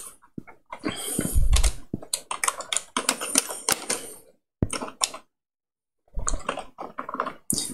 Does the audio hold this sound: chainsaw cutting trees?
no